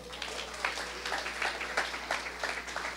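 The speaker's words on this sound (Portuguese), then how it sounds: "Você pode dar um aplauso ao Senhor?" A church congregation claps in praise during a sermon, a steady patter of many hands with a low hum running underneath.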